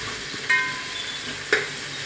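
Sliced onions frying in oil and ghee with whole garam masala in a pan, a steady low sizzle broken by two sharp stirring clinks, close and without talk.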